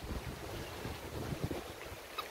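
Wind rushes through a peepal tree in the hills, a steady broadband roar with gusty swells and microphone buffeting, fairly loud and unbroken, with no voices.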